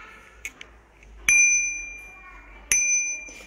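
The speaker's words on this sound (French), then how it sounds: "Petite sonnette de vélo ou trottinette" A small bicycle or scooter bell dings twice, each a bright metallic ring that lingers and fades, with small clicks before the first.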